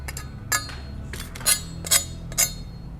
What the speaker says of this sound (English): Okay, and we'll just do a cut on the pork. And as you can see, it's very crispy skin.